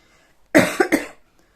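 A single close, loud cough fit of three quick bursts, with silence around it.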